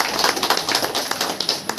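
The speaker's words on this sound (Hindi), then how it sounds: "इसी आप इन सब लोगों के लिए एक बार ताली बजा दिए जाए" An audience claps at an honouring ceremony in Uttarakhand, producing a brisk, steady patter of applause with uneven bursts at moderate loudness.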